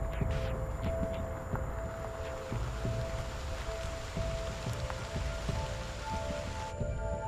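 Torrential rain pouring down in the Amazon rainforest, a steady close hiss of drops on leaves and ground, with scattered louder drips and patters throughout.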